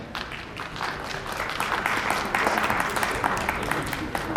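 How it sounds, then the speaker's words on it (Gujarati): An audience claps together to honor elders over eighty at a pensioners' association annual gathering in Ahmedabad, a steady, dense round of applause that swells slightly and holds through to the end. "હવે 80 વર્ષથી વધુના તાળીઓ સાથે વધાવો એમને"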